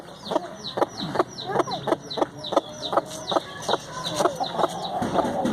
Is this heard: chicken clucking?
yes